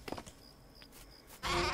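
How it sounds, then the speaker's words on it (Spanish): A sheep bleats briefly in the 2014 crafting game Craft the World, a short in-game animal cry heard near and alone, followed by a louder burst of game noise. "Habemos oveja."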